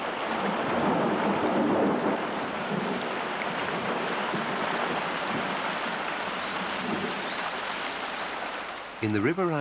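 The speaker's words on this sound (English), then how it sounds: "June marks the start of the monsoon rains." Monsoon rain pours steadily on a riverine area of southern Nepal, a dense continuous hiss with low thunder rumbling beneath it. It stays loud and even, and a brief sharper noise breaks in near the end.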